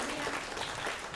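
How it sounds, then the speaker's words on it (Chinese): A congregation at a Taiwanese Sunday worship service gives a short, steady round of applause, soft and somewhat distant, with no talking over it. "咱将掌声归予咱伫天顶的主上帝"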